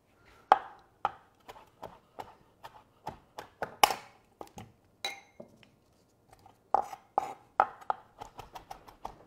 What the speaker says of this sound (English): Give it a rough chop.